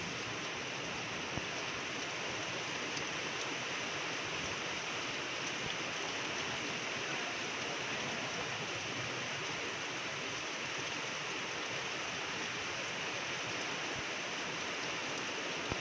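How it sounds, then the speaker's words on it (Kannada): Steady rain falls continuously outside a window, a dense even hiss with no breaks, heard from nearby without any voices. "ಹಾಗೆ ಕಿಟಕಿಲಿ ಮಳೆ ಬರ್ತಿದೆಯಲ್ಲ"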